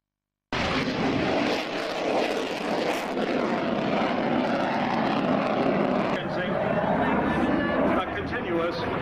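Aircraft engine roaring continuously through aerobatic manoeuvres at a 1995 Salinas, California airshow, a loud sustained drone with shifting pitch as the plane pulls and rolls.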